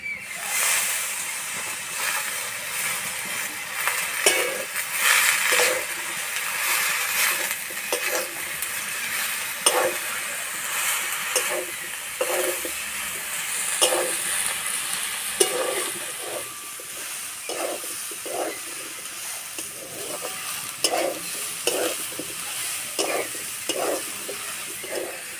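Radish greens tossed into a hot pan for a Bengali radish dish, frying with a constant hiss while a utensil scrapes and knocks in repeated strokes, close-up and free of talk.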